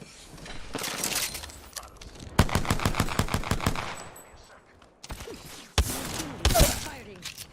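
Automatic weapon fire in Apex Legends: rapid bursts of gunshots in tight rhythmic strings, loud and close, separated by short pauses, with one or two heavier single blasts.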